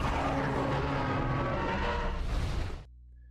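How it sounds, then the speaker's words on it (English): A Great Jagras monster from the Monster Hunter video game lets out a loud, rough, sustained roaring growl for about three seconds before it cuts off abruptly into near silence. "That, my friends, is the sound of a great Jagras."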